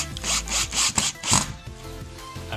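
Screws are driven into the hinges of an IKEA Norberg wall-mounted drop-leaf table, making a run of rhythmic rasping, grinding turns. Close and moderately loud, with no talk.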